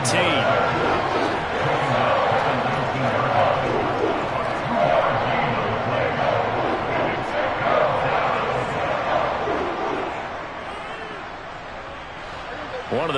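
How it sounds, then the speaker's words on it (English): A stadium crowd in the football game Madden 22 roars and cheers in a sustained, swelling wash that fades somewhat toward the end, with a voice talking over it. "The crowd getting into it as we come up on a big 3rd down."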